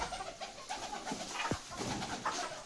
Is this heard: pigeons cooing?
yes